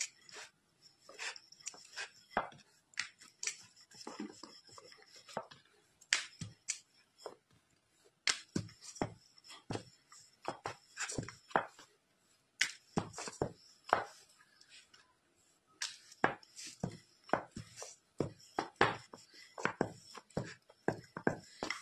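Balls of momo dough for fish momos are rolled out on a board, producing a steady series of close, sharp wooden knocks and taps from the rolling pin, coming in quick irregular bursts with brief pauses and no talking.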